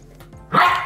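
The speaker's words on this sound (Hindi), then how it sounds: "इसमें मजा आ रहा है, भौंक रहा है, मजा आ रहा है।" A single short, sharp bark from a Golden Retriever puppy playing with a robot vacuum rings out near the end after a quiet stretch of faint background noise.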